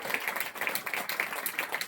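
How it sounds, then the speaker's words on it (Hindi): A crowd at a religious discourse event keeps clapping in sustained applause. The claps form a steady, even patter from many hands, somewhat distant and low in level, for under two seconds. "आपकी तालियां बजती रहे,"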